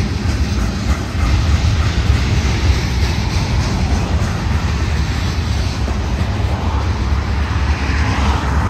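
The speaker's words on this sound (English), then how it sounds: "This southbound MPDRV is just leaning into the switch points of Irving Siding" A southbound Union Pacific freight leans into the switch points of Irving Siding, producing a loud, steady rolling rumble of wheels on rail close by, with continuous rattling and no talk.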